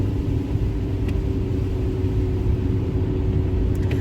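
Steady low rumble of a car cabin while driving home, an even road and engine drone throughout, close and unbroken, with no talking.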